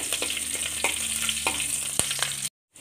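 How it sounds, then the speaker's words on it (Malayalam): Ginger and chopped green chilli sauté in a pan, producing a bright, constant sizzle with occasional stirring knocks and a faint low hum, ending abruptly in silence. "ഇഞ്ചിയൊക്കെ മൂത്ത് വന്നപ്പോൾ ഒരു പച്ചമുളക് അരിഞ്ഞതിട്ട് കൊടുക്കുക"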